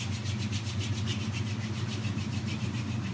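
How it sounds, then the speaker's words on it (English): Hands rub together in a steady, rhythmic back-and-forth swishing, close and continuous over a low background hum during a yoga routine. "rub the hands together"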